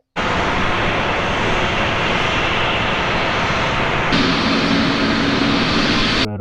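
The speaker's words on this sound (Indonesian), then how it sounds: "Wih, ternyata pesawat teman-teman." A Garuda Indonesia toy airplane emits a loud, continuous roaring engine hiss that holds steady and then shifts slightly in tone partway through before stopping abruptly.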